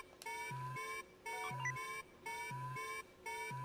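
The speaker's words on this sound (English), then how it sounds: "The sound was an alarm that triggered when unauthorized persons were on the premises." A security alarm for intruders on a building's premises in a video game, sounding as a repeating electronic tone pattern, roughly one cycle per second with short gaps, steady and fairly quiet.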